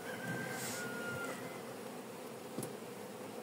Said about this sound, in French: on va visiter une colonie d'abeilles qui avait déjà une belle hausse